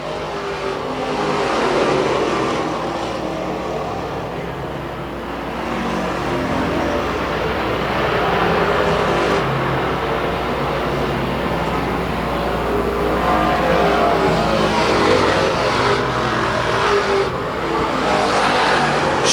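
Race cars in a Super Street class at a track run down the backstretch with a loud, sustained engine roar. Revs rise and fall, with faint tire noise, for the full stretch.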